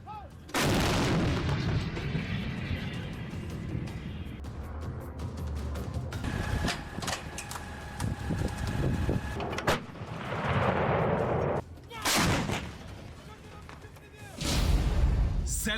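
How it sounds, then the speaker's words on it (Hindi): A French CAESAR howitzer fires, with sharp loud booming reports at irregular intervals that have rumbling tails, mixed with field noise and some talk. "फ्रेंच तोप सीजर।"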